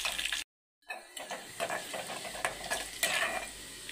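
Chopped onion pieces with kasuri methi fry in a pan toward golden brown, giving a steady close sizzle with scraping stirs, interrupted by a brief silent gap near the start.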